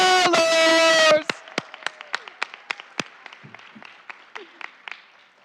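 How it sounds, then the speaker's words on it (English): Audience applause at an elementary school board of education meeting, a dense burst of clapping for about a second that thins into scattered individual claps trailing off, with a brief sustained tone at the start. "Can we hear another round of applause for our 10-year recipients and our scholars?"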